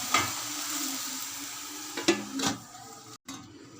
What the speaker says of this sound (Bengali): আবার ভালো করে এটাকে নাড়তে হবে।